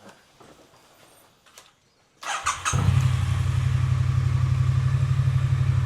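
A Triumph T100 motorcycle engine starts after quiet handling noises, then settles into a steady, close idle with a low, even throb.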